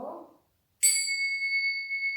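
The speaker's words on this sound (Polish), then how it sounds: "To są takie dzwoneczki i uderzamy je delikatnie bardzo." Tingsha bells are struck gently together, giving one bright, high metallic ding that rings on with a long, steady, shimmering sustain, preceded by a brief soft rustle.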